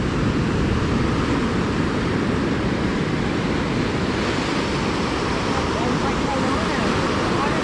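Ocean surf crashes and washes continuously onto a beach, a loud, dense roar of breaking waves mixed with wind noise over the microphone.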